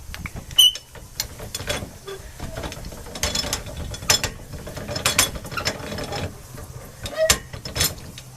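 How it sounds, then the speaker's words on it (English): A hand-cranked clothes wringer squeezing water from wet laundry turns with irregular clicking, creaking and ratcheting, close and moderately loud, in uneven bursts. "so then I run it through my wringer"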